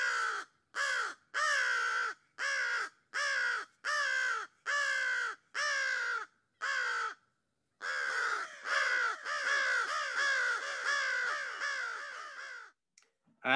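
Loud, close crow calls, a common bird of southwest Ohio: a string of harsh caws in an even rhythm, then a short pause and a denser run of overlapping caws, several birds calling at once.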